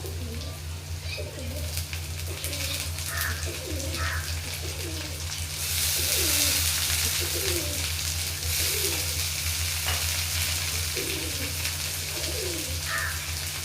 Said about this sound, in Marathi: कांदा चांगला भाजून घ्यायचा आहे, जास्त करपवायचा नाही.